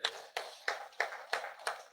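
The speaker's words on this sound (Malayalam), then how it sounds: "നമുക്ക് കൈയടിച്ച് നന്ദി പറയാം." A group claps in thanks at a church gathering, six sharp bursts of applause coming in steady succession, each rising quickly and fading before the next, fairly close and without talk.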